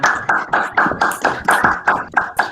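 A small group claps at the close of a school-focused academic meeting, about a dozen sharp, separate, close claps in a fairly regular rhythm, each one distinct rather than blended into a crowd roar.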